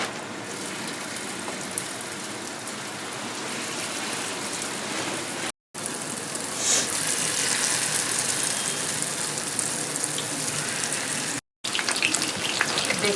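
Battered mushroom pakoras deep-fry in hot oil, giving a loud, dense, continuous hiss like heavy rain that runs throughout, broken only by two brief silent gaps.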